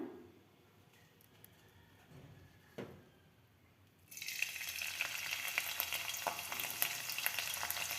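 Crushed green chillies and garlic hit hot oil for tempering, bringing on a sudden loud, bright sizzle that keeps crackling steadily after a few quiet seconds and a brief clink.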